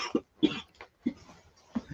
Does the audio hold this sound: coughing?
yes